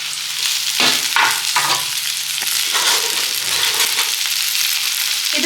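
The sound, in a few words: chopped okra frying in oil in a pan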